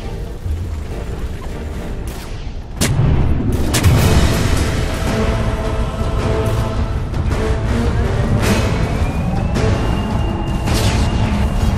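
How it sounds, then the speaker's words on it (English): Explosions and combat noise from a Dota 2 match while a tower is attacked: a dense, loud wash of impacts with a sharp boom, then continuous clashing and bursts. "Radiant's middle tower is under attack."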